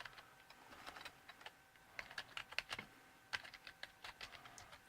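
Quick, faint clicking taps on a computer keyboard come in irregular bursts as login details are typed, close up in a quiet room.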